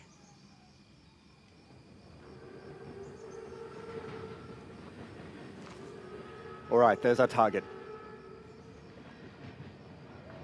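A massive armored train rolls by in a World War II shooter game, its low, steady rumble building under conversation, with a sharp cluster of loud bursts midway.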